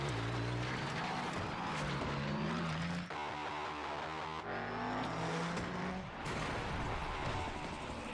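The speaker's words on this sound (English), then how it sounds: "Cars, buggies, trucks, and motorbikes were not just racing, but fighting, crashing, and smashing each other" Cars, buggies, trucks and motorbikes race and crash through a desert in a game trailer. Engines roar loudly and continuously, tyres squeal, and there are abrupt impact cuts, all under a dense, frantic mix.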